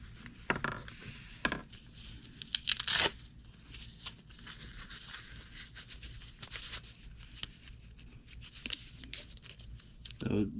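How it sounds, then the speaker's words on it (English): Black paisley Saints of Speed motorcycle gloves are pulled from their packaging, with close crinkling, rustling and tearing plastic in scattered bursts, loudest near the start and end. "Let's take them out of the packaging here and try one on and see how they feel."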